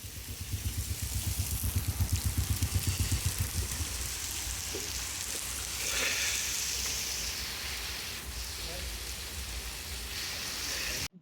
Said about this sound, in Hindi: लेकिन बारिश शुरू हो गई है